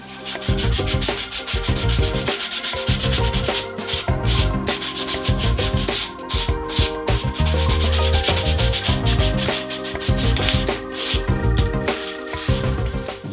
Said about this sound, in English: I'm now going to use the smoother sandpaper and start finishing the job.